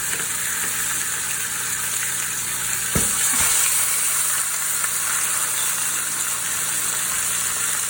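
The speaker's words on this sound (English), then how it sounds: "We're gonna brown these on all sides, get a nice brown crust" Pork shanks in a cure brown in a hot pan, giving a steady, even sizzle and fry with a couple of brief clatters partway through.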